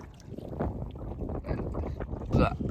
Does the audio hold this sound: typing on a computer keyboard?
no